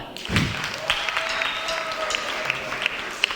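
An audience at a Ukrainian folk-music concert claps for the band's electric guitarist, a thick, continuous wash of many hands with a low thump at the start and a few sharper claps standing out near the end.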